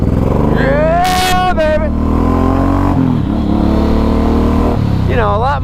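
A Suzuki M109R motorcycle revs hard while being ridden, its engine note climbing in rising sweeps up close and loud, with wind rumble throughout and a rider shouting over it.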